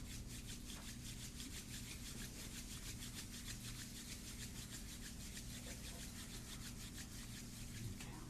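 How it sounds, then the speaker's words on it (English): Palms rubbing together steadily during a guided yoga meditation, a continuous soft brushing friction with a fast repeating rhythm, close and quiet, lasting throughout with no talking. "So let's go and rub our palms together."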